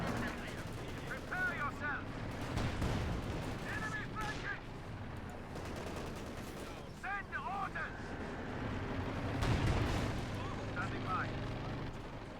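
Machine gun fire from a T-35 and a pinlock gun in a Company of Heroes 2 match, Soviet against OKW forces, rattling in bursts among other battle noise while a commentator talks over it throughout.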